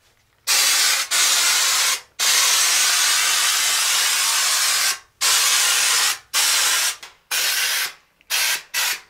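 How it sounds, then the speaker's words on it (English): An EZ-Pro texture gun at 60 PSI blasts wall texture in loud hissing bursts, one long spray and several shorter ones separated by brief silences, the bursts growing shorter toward the end. "another key benefit to the EZ-Pro Texture gun is the fact that it shoots at 60 PSI"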